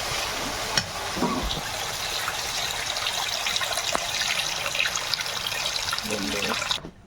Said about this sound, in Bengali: এইবারে এর মধ্যে জল দিয়ে দেবো